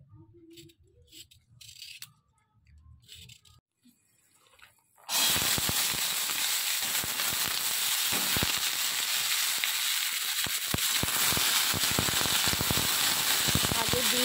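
Beetroot and carrot sizzle loudly in a hot pan, a sudden bright burst of crackling frying that starts partway through and keeps going steadily to the end after a quieter stretch of kitchen noises.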